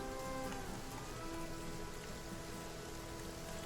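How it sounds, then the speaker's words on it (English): Steady, even rain patters across a surface in the video game The Flame in the Flood, with a constant hiss, continuous and unbroken, with a faint tonal hum underneath. "I love the sound of rain."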